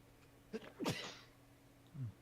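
A single sharp sneeze bursts out at close range, with a quick intake before it and a softer trailing breath or voiced murmur shortly after, against a quiet background hum.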